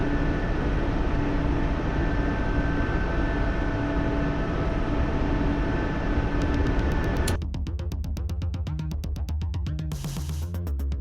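Mi-8 helicopter flying in a video game, a steady droning engine and rotor hum that shifts to a pulsing, choppier rotor sound near the end, with no talk.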